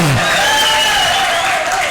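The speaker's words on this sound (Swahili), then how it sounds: "Wapi makofi mazuri ya Exodus dancers" Applause from an audience after a performance by the Exodus dancers at a live stage show, a broad steady clatter of clapping that holds for two seconds with some crowd noise mixed in.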